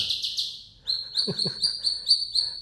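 A white-rumped shama sings up close: a few rapid high whistles, then a bright repeated chirping phrase over low croaking notes.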